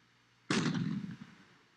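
In The Alamo video game, artillery and rifles let loose in one heavy, booming volley that rumbles and fades over about a second.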